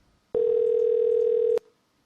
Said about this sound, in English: It just keeps on ringing, Chad.